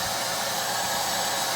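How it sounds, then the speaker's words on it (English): A vacuum draws up bees during a hive removal, a steady, close, airy hiss and whoosh with no break through the short span and no voices. "we keep vacuuming them up"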